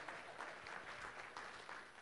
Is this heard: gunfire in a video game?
no